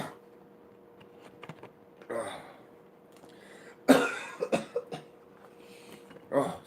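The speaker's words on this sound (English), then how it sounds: "I've been trying to hold them coughs down." Several harsh coughs from a person at a desk during a late-night card reading, stifled and spread across a few seconds, with faint keyboard-like clicks and quiet sounds in between.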